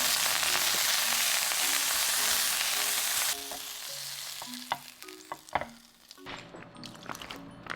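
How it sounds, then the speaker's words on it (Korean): Ham stir-fried in an oiled, preheated pan gives a bright, dense sizzle that fades partway through. Brisk spatula scrapes and clicks follow as the pieces are tossed close up. "예열된 팬에 기름을 둘러주고 햄을 넣어 살짝 볶아주세요"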